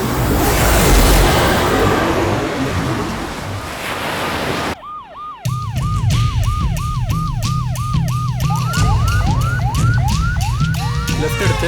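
An ambulance siren in a Tamil psychic crime thriller film scene: a rushing roar gives way, after a brief dropout, to a loud, steady wailing siren that repeats in even cycles and speeds into quicker yelps toward the end.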